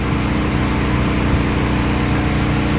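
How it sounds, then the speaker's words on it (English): A 40000 BTU, 3.5 ton air conditioner runs on a generator with a hard start kit fitted, giving a loud, steady, low droning hum with a constant motor and fan tone, close and unbroken. "As you can see, the fan's currently blowing"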